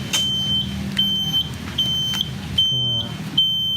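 A 1996 Suzuki RC 100 Bravo motorcycle with ignition switched on and a possible fault gives repeated high electronic beeps in short bursts of varying length, close and clear over a low background hum.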